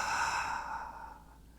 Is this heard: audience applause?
no